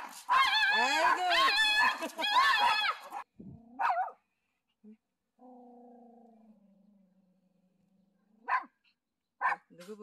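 A dog on a walk lets out a rapid run of loud, high, excited barks and yelps close by, then falls quiet apart from a few whines and short yips, with a person speaking briefly.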